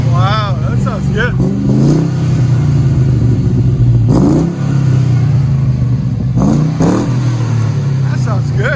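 A 2000 Chevy Tahoe with a 6.0L LS V8, aftermarket cam, shorty headers and Magnaflow exhaust idles with a steady deep rumble and brief revs, while people talk over it nearby.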